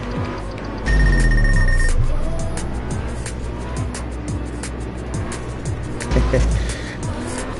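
A drifting car in the video game Absolute Drift hums along with a steady engine drone, broken by bursts of tire squeal and a ringing tone near the start.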